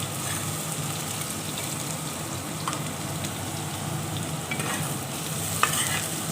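Onions sizzle steadily in a hot pan for mutton pulao, a dense continuous frying hiss with faint stirring scrapes and one brief clink near the end, no voices.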